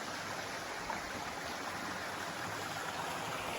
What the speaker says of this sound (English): And obviously under the bridge are the wonderful stream